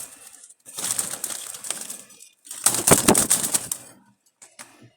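Jalali pigeons in a loft, two close bursts of wing flapping and fluttering separated by short quiet gaps, with some faint cooing and chirps near the end and no talking.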